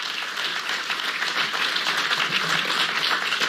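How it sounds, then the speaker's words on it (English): Crowd applause rises as a dense, steady wash of clapping that holds evenly for a few seconds, with no voices over it. "So give yourselves a round of applause for that"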